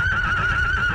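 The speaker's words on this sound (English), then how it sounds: "That horse sounds frightened." A frightened horse whinnies in a stable, one sustained, quavering high neigh that sounds close and clear and fills the short moment.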